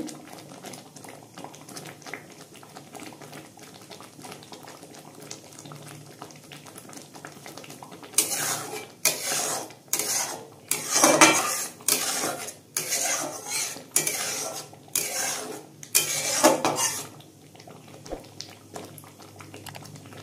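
Ripe mango pulp for aamsotto thickening as it boils in a pan, stirred with a spoon. After a quiet start, rhythmic scraping and clattering strokes come close and fairly loud, with no talking.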